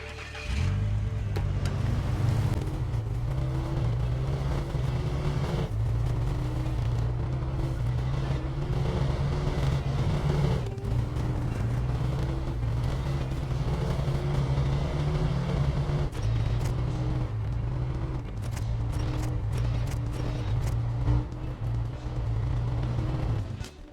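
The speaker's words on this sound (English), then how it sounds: "I decided to give my pickup truck a little run around" Steady low engine drone of a pickup truck driving in the video game SnowRunner, continuous and fairly loud throughout, with occasional faint clicks and bumps over the hum.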